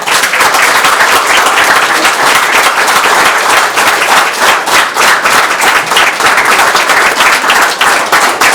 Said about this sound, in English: So I'd ask for a big round of applause for Governor Wilson.